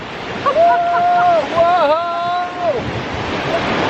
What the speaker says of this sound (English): I didn't know there was any rapids on this stretch.